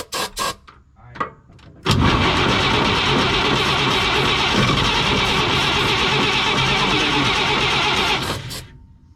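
A 1954 Chevrolet 3100 pickup truck cranks with a few stuttering attempts, then fires and roars loudly at high revs for several seconds before cutting off, close by.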